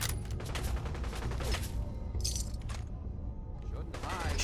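Rapid gunfire and bullets pinging and clattering off a metal shopping cart in Fallout 4, a dense barrage of sharp cracks and metallic impacts with brief breaks and a voice speaking over part of it.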